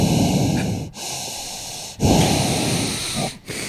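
Someone breathes heavily through the nose right against a microphone, three or four loud hissing inhales and exhales separated by brief pauses, very close and alone without talk.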